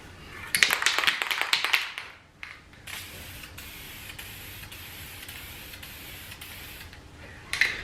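A spray can of anodized red transparent paint is applied in light coats: a few rattling shakes of the can, then a steady close hiss of spraying with brief pauses, quiet apart from the can noise.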